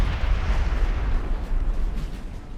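Artillery guns fire in a Napoleonic-era battle in Napoleon Total War, a dense, continuous rumble of booming low blasts rolling on and overlapping from a distance with no clear gaps.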